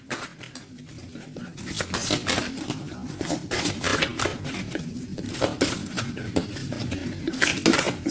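Tarot cards being shuffled by hand, a steady clattering patter of stiff cards rubbing and tapping together, close and fairly quiet, with no voice over it.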